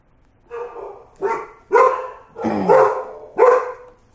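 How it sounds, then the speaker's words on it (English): Dogs barking loudly nearby, five separate barks with short pauses between them, no talking. "There are the dogs. I told you that they were going to be a little loud."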